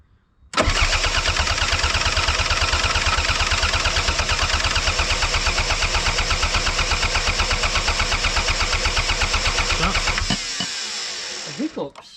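Toyota MR2 Turbo (SW20) engine cranking on the starter for about ten seconds without catching, a loud steady rhythmic churn that stops abruptly, followed by faint sputters and voices.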